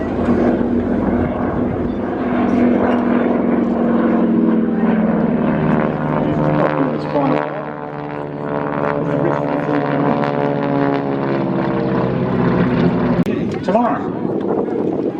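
A propeller aircraft flies overhead at the Wings Over Wairarapa 2021 air show, trailing diesel-generated smoke, its engine drone steady and fairly loud throughout while someone talks over it.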